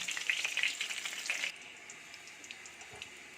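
Fish heads fry crisp in hot oil, a dense close sizzle for about a second and a half before it drops to a faint, quieter hiss with small scattered ticks as the pieces are lifted out.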